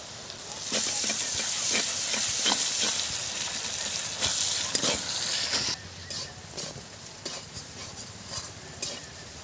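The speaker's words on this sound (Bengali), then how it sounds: "রসুন বাটা দু মিনিট ভেজে আদা দেব" Garlic paste fries in a pan after the onions for a prawn curry, a loud hissing sizzle with spoon scrapes that drops to a quieter simmer partway through.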